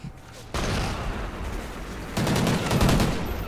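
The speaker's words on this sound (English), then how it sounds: "Flashbangs are so useful" Flashbang grenade going off in the video game Call of Duty: Ghosts: a sudden loud burst of noise, then a second harder blast with rapid gunfire crackle, heard close and brief.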